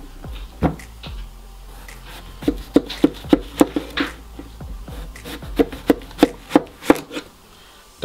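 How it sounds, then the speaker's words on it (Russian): Knife chopping zucchini on a board, a series of sharp separate cuts that speed into a quicker run of regular, close, loud knocks. "Нарезаем кабачок."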